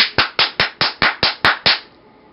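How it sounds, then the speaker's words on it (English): Nine hand claps in a quick, steady rhythm, close and loud with no voices, each cracking sharply before the room falls quiet. "Now if I keep clapping,"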